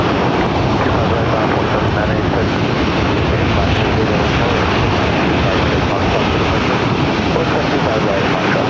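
An American Airlines airliner on its takeoff roll from runway 25 right at LAX, giving a steady, loud, broadband jet engine roar that holds without letup throughout.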